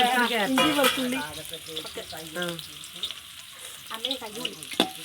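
Onion, green chili, carrot, crushed garlic and ginger sizzle in a pan as they are stirred, a crackling fry with scraping strokes beneath a person talking throughout.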